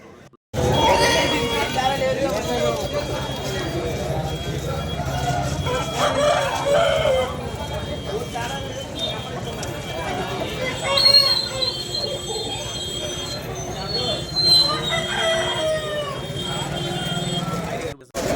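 Roosters crow amid a busy, noisy crowd at a country chicken market in Bandar, Vijayawada, with chatter and clucking throughout and a loud, continuous background din.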